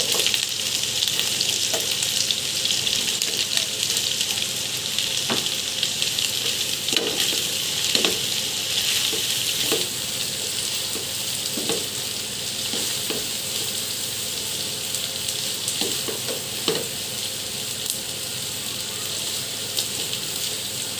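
Cubed onions and mixed vegetables frying in hot oil in a pan for restaurant-style fried rice, a loud steady sizzle with scattered clinks and scrapes of stirring throughout, no talking.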